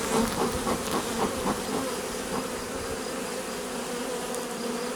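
Honeybees swarm over an open hive, a close, steady, dense buzzing hum that continues evenly throughout with no voices.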